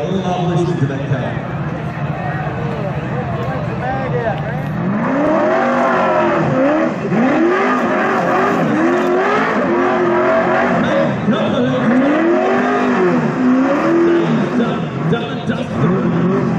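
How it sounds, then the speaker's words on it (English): A 9000 RPM NASCAR engine in a Bloky screams at high revs while the car does burnouts at Brashernats 2017, loud and continuous with rising and falling rev sweeps and tyre squeal, a crowd and voices faint underneath. "I love listening to that car."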